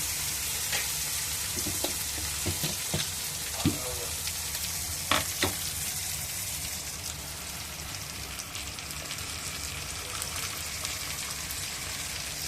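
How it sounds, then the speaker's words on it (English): Tomato puree sizzling as it goes into a hot pan for ratatouille, a steady broadband frying hiss with a few sharp crackles and stirring clicks near the start, then an even sizzle to the end. "now it's time to add the tomato puree"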